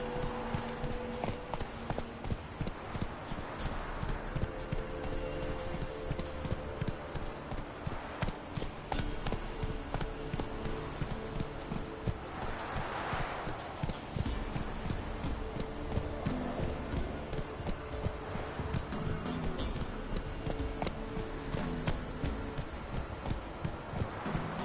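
Steady clip-clopping of Roach's hooves as Geralt's horse trots along in The Witcher 3, a continuous close rhythm over game ambience with no talk.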